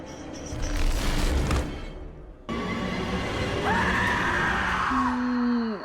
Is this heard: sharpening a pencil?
no